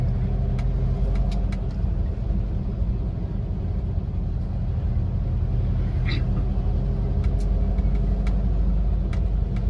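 A vintage VW Bulli van drives through Hamburg city streets on an oldtimer tour, its steady engine rumble and road noise continuous and close, with faint clicks and brief higher sounds over the drone.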